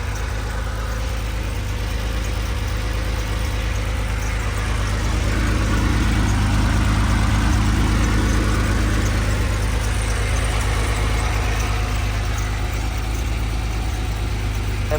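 A 1973 Porsche 911 Targa idles steadily, its engine a constant low rumble with a slight swell in the middle, heard close and alone with no talking.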